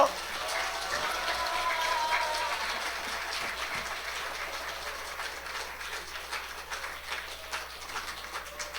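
Audience applause welcoming a guest on stage at a church evangelistic gathering, a dense steady clapping that fills the hall and slowly thins out, with a voice faintly audible underneath.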